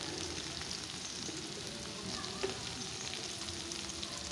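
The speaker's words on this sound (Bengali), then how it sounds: "শুকনো মরিচ এবং পেঁয়াজ ভেজে নিচ্ছি।" Dried chillies and onions fry in oil in a pan, giving a quiet, continuous sizzle and crackle with a few soft stirring clicks, with no voices.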